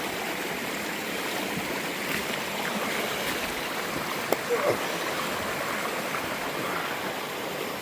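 A mountain stream rushes steadily along a hiking trail while a hiker crosses, with a brief splash or step into the water midway through the constant close babble.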